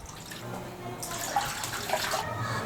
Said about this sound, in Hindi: 2 गिलास पानी के जाएंगे।